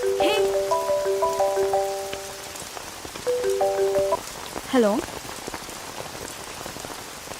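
Steady rain pours down throughout, mixed with sustained tonal musical notes and a short spoken greeting from a voice partway through.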